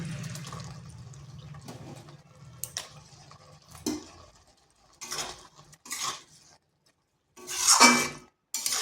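Okra added to a pan of boiled potatoes and stirred, heard as scattered scrapes and clunks of a utensil with short wet bursts separated by quiet gaps.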